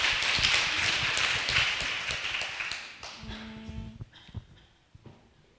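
Audience applause for a nurse speaker at a nurses' talk concert, a dense crowd clapping that fades after about three seconds, leaving a few scattered claps and faint room sounds.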